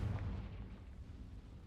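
Confringo fire-blast spell in the video game Hogwarts Legacy, a low, muffled explosive boom at the start that decays into a rumbling tail, fairly quiet.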